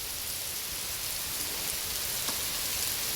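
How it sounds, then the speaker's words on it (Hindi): Heavy rain pours down in a foggy hillside spot, a dense, uniform hiss that stays steady and fairly quiet throughout, with no voices. "यार बरसात देखो क्या झमाझम हो रही है"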